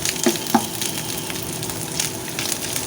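Dried fish frying in oil with onion and green chili, a close, even sizzle with a couple of brief utensil knocks at the start.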